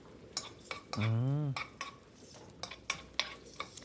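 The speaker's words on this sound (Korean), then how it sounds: "양파 넣고 살짝 볶아주세요." Minced garlic and onion are stir-fried in a pan with perilla oil, a spatula scraping and tapping against the pan in quick irregular strokes, with a faint sizzle and a short burst of voice.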